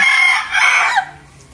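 A rooster crows close by, a loud, strained cock-a-doodle-doo that rises and fades within about a second and a half, with no talking.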